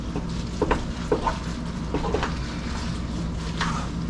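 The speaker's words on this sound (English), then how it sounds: "Stir it around" A spoon scrapes and taps in a pot while cheese is stirred into macaroni, with soft irregular clinks and a low sizzling hiss underneath.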